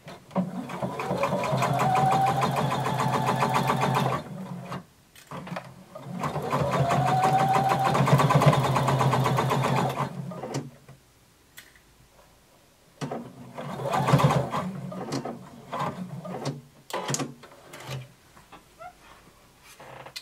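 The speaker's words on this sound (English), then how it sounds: "using a long basting stitch, you're going to stitch all the way around" Sewing machine running a long basting stitch around the edge of skirt fabric, close and loud, in two long continuous bursts followed by shorter stop-start runs with pauses between.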